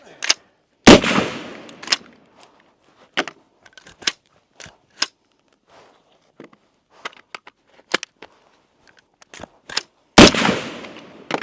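A Geissele Super Duty HBAR rifle fires during a meltdown test, with sharp, loud shots at uneven intervals. The two heaviest reports come near the start and the end, and lighter cracks and clicks fall between them.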